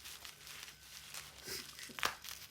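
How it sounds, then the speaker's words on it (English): Packaging around a silver coin being unwrapped, giving quiet crinkling and rustling with a sharper tear near the end, close but faint. "let's just unbox it"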